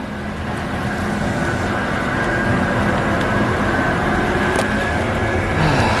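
The FX2 Emerald Express bus rapid transit bus draws near with a steady, loud engine and road rumble that swells slightly over several seconds, with no voices.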